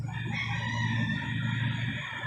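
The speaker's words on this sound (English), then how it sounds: "Our rooster's over there going nuts." A rooster crowing nearby, a sustained harmonic call held across the whole stretch, moderately loud with no voices over it.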